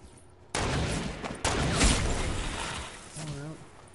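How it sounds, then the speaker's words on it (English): Gunfire bursts from a Fortnite match, a rattling volley starting sharply and sustained over several seconds while players talk over it. "Is he shooting at you?"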